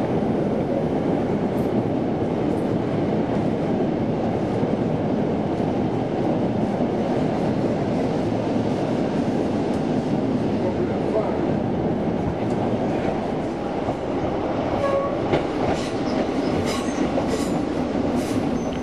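Steady rumbling of a passenger train to Penzance, England, heard from inside, a continuous loud roar with faint rattles and clicks throughout, no voices.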